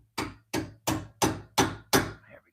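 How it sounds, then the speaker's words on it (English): Six evenly spaced metal hammer blows strike a boat trailer hub bearing, each a sharp loud clank with a short ring, close and alone. "Let's see if I can hit it with this hammer and pull it out."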